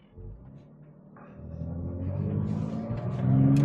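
A car with an Aisin TF-80SC automatic transmission pulls away in first gear, the engine rumble rising steadily from quiet to loud as it accelerates close by.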